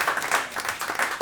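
Studio audience applause for a guest on a late-night TV show, a short burst of brisk, fairly close claps pulsing unevenly for about a second.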